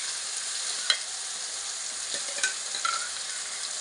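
Red chutney with no coconut or tomato is heated in a pan. It sizzles softly and steadily throughout, with a few light scrapes of stirring and no voices.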